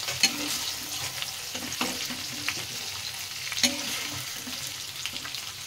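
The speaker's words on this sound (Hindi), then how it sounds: "एबे हमर पनीर ता हल्का भाजी हो गला" Paneer frying in a kadai in a home kitchen, a continuous close sizzle broken by scraping stirs of the spoon against the pan at irregular intervals, with no talking.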